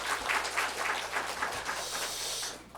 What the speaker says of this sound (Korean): 우리 감사의 박수 한번 더 드리겠습니다.